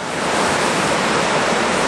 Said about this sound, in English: That's the little waterfalls there.